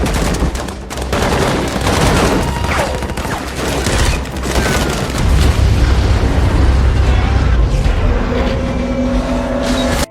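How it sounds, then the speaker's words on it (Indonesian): Movie action scene where a robber gang rams a car and flips it over, a dense, continuous din of crashing impacts, booms and rapid gunfire-like bursts, loud throughout, with a low rumble and a tonal drone rising near the end. "mereka dikepung geng perampok yang tiba-tiba menabrak mobil mereka hingga terguling"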